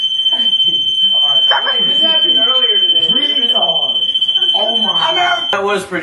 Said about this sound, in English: Chris, you broke the fire alarm.